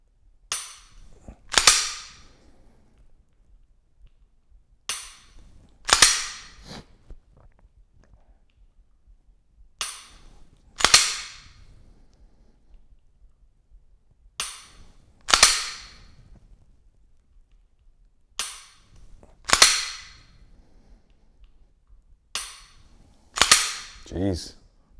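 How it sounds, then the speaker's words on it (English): An unloaded pistol fitted with a Mantis X10 Elite sensor is dry fired support-hand only, giving sharp, close trigger clicks, often in quick pairs, every few seconds with quiet gaps between. "Each trigger press, just trying to find a good grip, good sight package, have a good clean break all the way to the back of the trigger guard"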